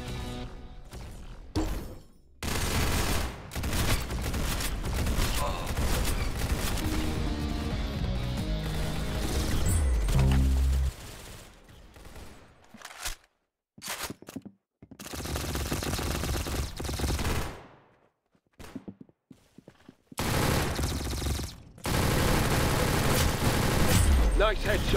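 Gunfire in the video game Arsenal comes in loud bursts of rapid automatic shots and fusillades, broken by brief silences and layered with game sounds.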